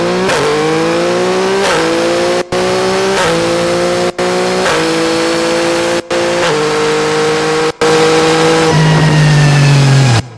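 A recorded motorcycle engine runs under dynamics processing. Steady, close mid-pitched engine drone, with brief dropouts as effects are switched in one by one, and a lower, fuller tone near the end. Nobody speaks.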